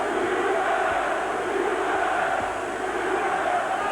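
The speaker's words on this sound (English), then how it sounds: "the crowd appreciating this work from Eubank, shouting out his name." Boxing arena crowd during Carl Thompson versus Chris Eubank, a dense, sustained roar of many voices chanting and shouting together, loud and continuous throughout.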